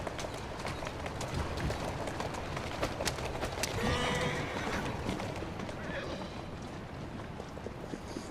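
Galloping horse hooves in the video game Assassin's Creed Syndicate pound steadily in the foreground with a brief whinny partway through, over a constant noisy background.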